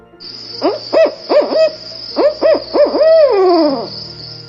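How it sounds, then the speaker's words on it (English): A barred owl gives a loud, clear series of rhythmic hoots in two groups, ending with a long descending hoot, close by with no other sounds. "I heard a loud bellowing barred owl."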